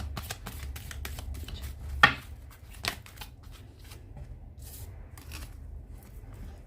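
Tarot cards shuffled and drawn from the deck during a card reading, heard as soft papery brushing and light taps with one sharper snap, over a steady low background hum and with no talking.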